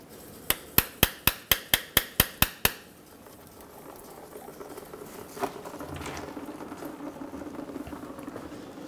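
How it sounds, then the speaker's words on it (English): About ten quick metallic taps of a small pry bar driven between a 2000-2007 Ford Focus transmission pan and the transmission, sharp and evenly spaced, followed by quieter shop rustling. "I'm going to use a small pry bar and just tap it in between the pan and the transmission"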